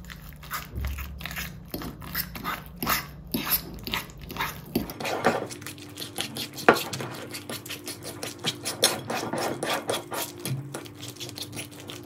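A cottage cheese, egg and salt mixture for syrniki is stirred by hand in a bowl, giving close, uneven scraping and squelching strokes with no talking.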